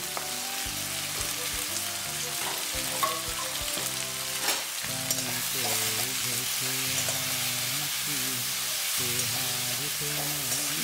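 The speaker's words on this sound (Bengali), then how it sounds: "মশলাটাকে আমি ভালো করে কষিয়ে নেব" Spices for chicken curry fried in a pan, a dense continuous sizzle under loud background music with melodic tones throughout.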